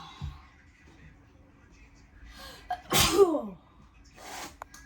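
A single sharp sneeze bursts out near the middle, loud against a quiet room with faint background voices before and after.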